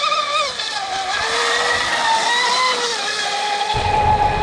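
A Traxxas DCB M41 RC speedboat's small high-revving motor whines at full throttle, its pitch rising and falling as it passes, with a low rumble of water near the end.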